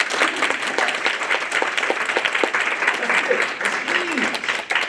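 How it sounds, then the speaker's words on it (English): Teachers at a high school faculty meeting clap together in a dense, continuous round of applause, fairly loud and near, with brief voices surfacing under the clapping. "That's a clap."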